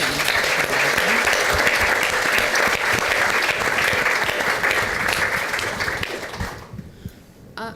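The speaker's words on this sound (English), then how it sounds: "Can I get a round of applause for Nick?" An audience at a business roadshow event applauds for Nick, a steady dense burst of clapping that stays loud for several seconds before tapering off near the end.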